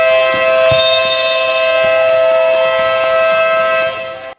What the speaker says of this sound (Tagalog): Buzzer na.